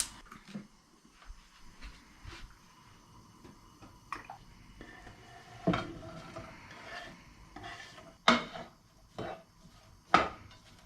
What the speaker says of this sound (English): now I'm gonna cook them in a pan until they are soft